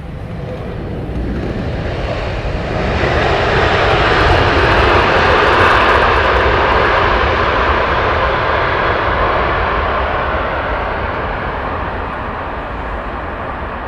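A Boeing 787 Dreamliner landing on runway 27R at Heathrow, its loud engine roar swelling as it passes close overhead, then fading into a steady rumble.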